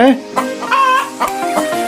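Close, loud chicken clucks come in several quick, throaty bursts over two seconds, with no other sounds competing.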